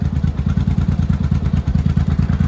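A 1982 Yamaha Maxim 750 or 1983 Honda Shadow barn-find motorcycle engine idles with the choke fully off, a steady, loud, close-up low-pitched chug with an even, slightly lumpy firing rhythm and no talking.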